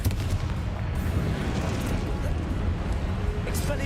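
Blasts from the Confringo explosion spell in the video game Hogwarts Legacy, set against dense, continuous combat noise that stays loud and rumbling throughout with no quiet gaps.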